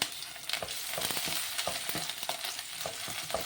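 Spice paste frying in a pan with cumin and panch phoron for an Assamese vegetable sabzi, a steady hiss of sizzling oil broken by sharp crackles and stirring scrapes, close and fairly loud, with no talk.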